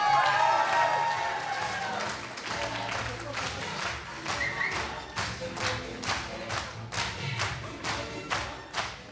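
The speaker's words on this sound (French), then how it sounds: "Vous êtes toujours là et vous pouvez vous applaudir." A forum audience at a French humour and poetry show claps and cheers, starting in a dense burst and then settling into rhythmic unison clapping that carries on steadily.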